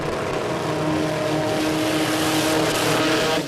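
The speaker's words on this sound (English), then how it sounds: "it doesn't sound like he's having a lot of luck in the burnout down here" Patrick Long's Monster Performance car struggles through a burnout at an Australian sports compact drag racing meet, a sustained, distant engine roar with tyre noise that holds steady and drops off at the end.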